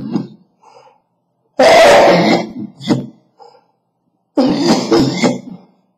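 Several harsh bursts of coughing or throat clearing, close and fairly loud, separated by short pauses, with one stronger fit in the middle and another near the end.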